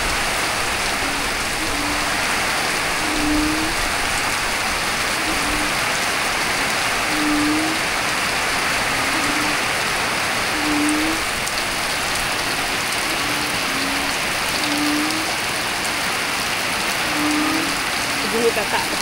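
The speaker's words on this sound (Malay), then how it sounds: "Hujan lebat dekat kampung." Heavy rain pours steadily on a village in a dense, continuous hiss, with faint low calls repeating in the background.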